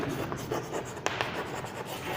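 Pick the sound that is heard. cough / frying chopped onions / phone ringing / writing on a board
writing on a board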